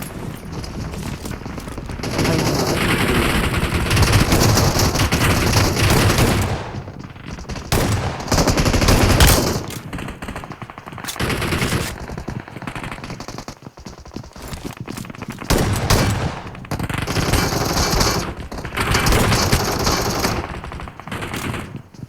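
Rapid automatic gunfire from the video game BGMI comes in long, loud bursts, rattling sprays broken by short pauses and a few single shots as the firefight continues.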